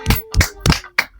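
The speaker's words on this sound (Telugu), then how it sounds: "క్లాప్స్ కొట్టండి." Hands clapping in a village kitchen setting: four or five distinct sharp claps in an uneven rhythm, close and clear, with no talk over them.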